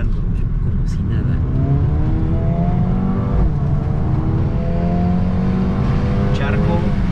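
A Mercedes-AMG CLA 35 4MATIC engine hums and whirs as the car accelerates through a curve on a wet road with puddles, heard from the cabin, with tyre noise underneath and someone talking over it.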